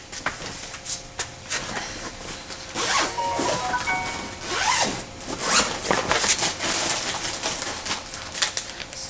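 Large 2.5 gallon Ziploc bags packed with LEGO are zipped open up close, with plastic crinkling and bricks shifting in several loud bursts.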